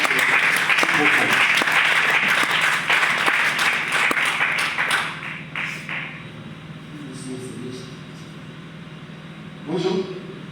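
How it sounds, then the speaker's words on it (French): An audience at a French book presentation applauds a speaker, with loud sustained clapping that gradually thins and fades to scattered claps. "j'aimerais que le public de Maouzès, que vous puissiez acclamer notre orateur pour cette réponse profonde"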